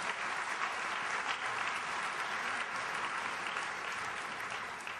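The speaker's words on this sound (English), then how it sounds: "A round of applause for that" Steady, moderately quiet applause from an audience at a commercial law lecture, continuous clapping throughout with no talking over it.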